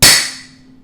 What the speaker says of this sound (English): He's going to give it a good whack with the hammer.